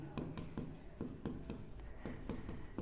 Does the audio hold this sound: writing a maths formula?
yes